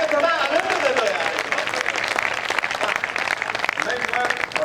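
An audience at a Hindi poetry gathering claps steadily and loudly for several seconds, sustained applause with a voice faintly underneath.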